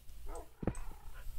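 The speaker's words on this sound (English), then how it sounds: "Whose dogs? Those are my dogs." Dogs barking in the Minecraft video game, a few short game-sound barks and yips at close range over a low background hum.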